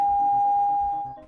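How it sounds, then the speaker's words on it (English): A steady electronic tone from a VR headset warning of low battery, holding one pitch for about a second before cutting off, with faint game sounds underneath. "That was my battery beeping"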